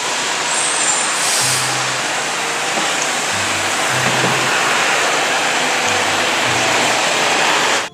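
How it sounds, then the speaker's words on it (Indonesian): An extra-long concrete mixer truck rolls past close by in a steady, loud wash of engine and tyre noise. Low engine drones rise and fall throughout. "Wah, truk molen lagi, super panjang,"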